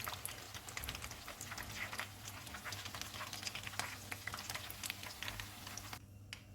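Fish frying in hot oil on a lowered flame for Dhaka-style fried fish, giving a faint, steady crackling sizzle dotted with small pops, with no voices.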